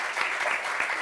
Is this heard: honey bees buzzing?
no